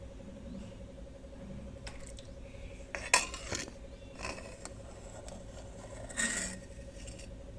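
A spoon scrapes and clinks against a cooking pot while skimming foam off boiling toor dal, with a sharp metallic clatter near the middle and another light scrape toward the end, over steady kitchen background noise.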